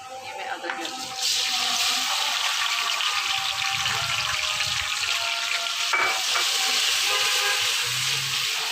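Ginger and garlic frying in hot oil in a pan for dhaba-style masala mash daal, a loud steady sizzle that jumps up after a second and stays dense and close, with faint clatter.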